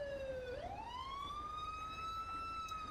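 An ambulance siren in the GTA 5 video game wails steadily and loudly, its pitch dipping and then rising into a sustained tone over a constant low rumble, at a traffic stop, with no talking.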